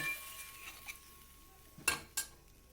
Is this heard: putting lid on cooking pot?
yes